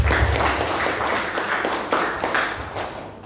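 Audience applause closing a school meeting on sharing good practice in a student project, a dense sustained clatter of many hands that holds steady, then thins and fades out.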